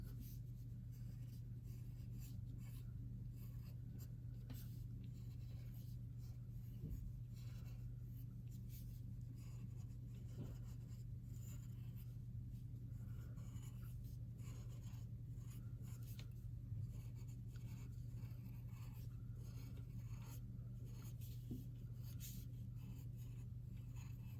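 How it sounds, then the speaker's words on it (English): A pencil sketches Godzilla on paper with faint, steady scratching and scribbling strokes in short bursts over a constant low background hum, quiet and close throughout. "Okay, let's keep drawing these."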